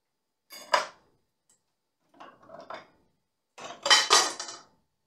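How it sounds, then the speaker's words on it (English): Butter is mixed in a bowl for a lemon meringue pie filling, heard as three separate close bursts of clinking and scraping utensil against the bowl with silence between them. "Continue mixing this until this butter dissolves."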